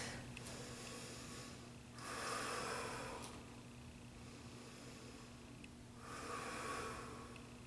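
Slow breathing is held in a yoga twist in a grounding flow: two soft, drawn-out breaths a few seconds apart, faint and close against a quiet room hiss.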